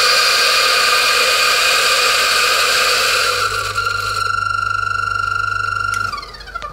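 A coffee grinder runs loud and steady with grindz cleaner tablets, its whirring motor dropping in pitch near the end and then shutting off with a short winding-down rattle.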